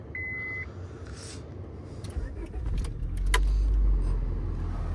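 A car engine is started, a brief beep and key jangle coming first, then a low rumbling turnover that catches and settles into a close steady idle.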